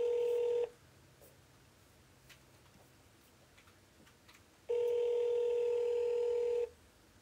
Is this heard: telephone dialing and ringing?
yes